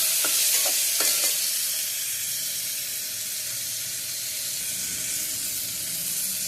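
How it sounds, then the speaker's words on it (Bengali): Potatoes and tomato frying in a pan for ghugni give a steady hiss of sizzling, with a few quick utensil scrapes and knocks in the first seconds, then an even fry. "এবারে এটা একটু কষিয়ে নিই আলুটা"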